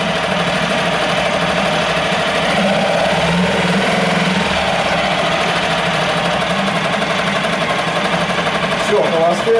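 A CG Marine 4-stroke 6 hp outboard motor idles in a steady, rapid mechanical chug, loud and close, continuing without letup as someone speaks briefly over it.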